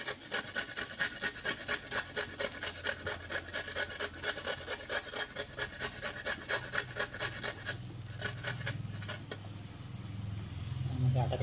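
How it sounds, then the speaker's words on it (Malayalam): Beetroot is scraped with a hand scraper in a home kitchen while making dosa: a steady, fast rasping rub repeating for over ten seconds, close and moderately loud, with a low rumble swelling near the end. "ഈ സ്ക്രാപ്പർ ഉപയോഗിച്ച് ഒരു ബീറ്റ്റൂട്ടിൻ്റെ ഒരെണ്ണം സ്ക്രാപ്പ് ചെയ്തിട്ട് കൊടുക്കാം"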